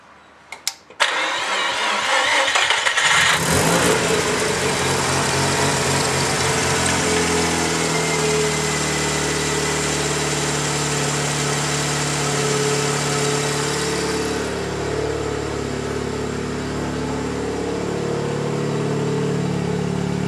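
A Mazda 13B turbo rotary engine on a test stand cranks with a few sharp clicks, fires up and settles into a loud, buzzing, slightly uneven idle that runs on steadily, with a small shift in tone partway through.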